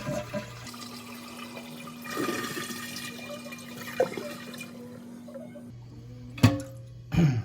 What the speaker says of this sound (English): we're going to drain the tank as much as possible by lifting up on the flush lever and letting the water drain out